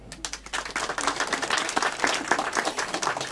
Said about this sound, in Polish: I tu duże brawa.